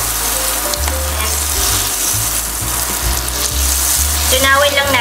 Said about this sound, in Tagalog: Tunawin lang natin yung butter.